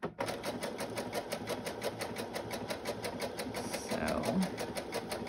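A sewing machine runs a zigzag stitch along the edge of fabric, its rapid, even needle clatter ticking steadily throughout while a person speaks briefly over it.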